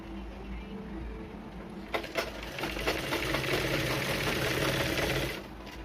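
Electric sewing machine stitching a lining piece onto a blouse, starting as a low hum and then running in a fast, steady mechanical whir with rapid needle clatter before easing off near the end.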